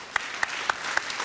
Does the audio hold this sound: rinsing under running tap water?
no